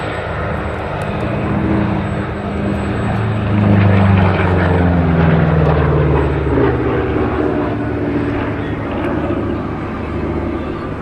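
The piston engine of P-47D Thunderbolt fighter 'Nellie B' roars continuously during a flying display at Abingdon, loud and steady with a slowly rising and falling pitch as the aircraft passes.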